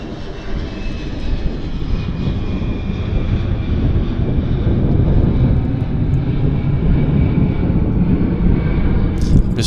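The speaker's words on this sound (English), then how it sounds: "get the show going with the 580s, the Convair 580s" Convair 580 turboprop aircraft engines at Vancouver YVR airport near runway 08, a loud steady roaring drone that holds and slightly swells throughout, with some wind buffeting on the microphone.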